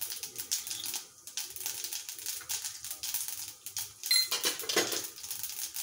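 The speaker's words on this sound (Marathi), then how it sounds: "तेल तापले. मोहरी घातली मी आता." Mustard seeds, cumin and asafoetida crackle and sizzle in hot oil in a pan, a close, steady patter of popping and spitting with no one talking.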